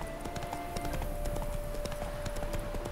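Horse hooves clip-clop steadily at a riding pace in The Witcher 3, a close, even rhythm of light taps over a faint sustained musical tone, with no talking.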